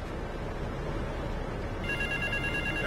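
In Grand Theft Auto 3, a phone rings faintly through steady game background noise, its repeating electronic tone starting partway through and continuing to the end.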